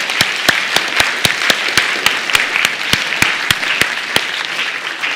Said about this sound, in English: let's give our electrons a round of applause